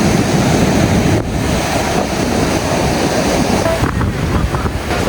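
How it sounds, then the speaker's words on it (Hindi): Rushing river water where the Spiti and Sutlej rivers meet, a steady loud broadband roar with wind buffeting the microphone throughout. "सतलुज नदी ये वाली है और ये वाली स्पीति नदी है"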